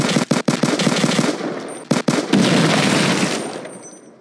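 Rapid automatic gunfire from the mobile shooter game Fort Squad Royale, loud dense bursts with a few brief gaps, sustained throughout and tailing off slightly at the end.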